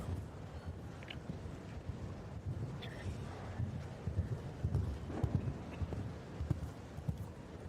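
Hooves of a 10-year-old show jumping gelding at an indoor Christmas competition, giving irregular thuds and clip-clops on the arena footing, moderately close, over a steady roomy background with faint wind-like noise.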